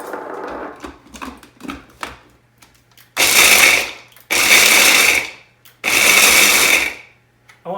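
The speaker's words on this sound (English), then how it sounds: "I like using my little power chopper thing here." An electric power chopper whirs through nuts in three loud bursts of about a second each, separated by short pauses, after some lighter clicks and handling noises at the start.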